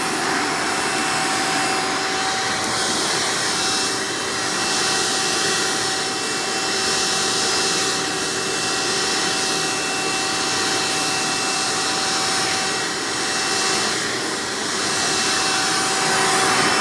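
Hoover Elite Supreme U5043-930 upright vacuum cleaner running steadily, a loud constant motor whine and airflow roar with a slight pulsing swell, heard alone.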